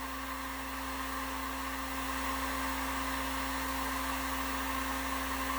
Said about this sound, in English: Heating her up on the heat gun now.